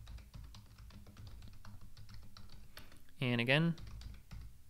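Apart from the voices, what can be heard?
typing a password on a computer keyboard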